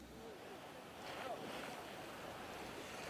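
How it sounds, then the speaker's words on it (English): Storm surge waves from Hurricane Sandy wash through New York Harbor, a steady broadband roar of surf and water mixed with heavy wind buffeting the microphone, faint and distant, with no clear talk. "This is a record surge of water, Diane, that we're witnessing right now"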